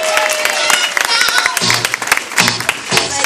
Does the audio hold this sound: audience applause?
yes